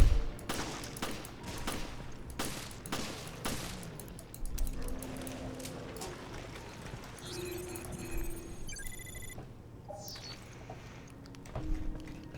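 Repeated gunshots fired at an enemy in Resident Evil Revelations, sharp separate cracks in an irregular rhythm over a low game ambience, with a few other in-game effects and no talk.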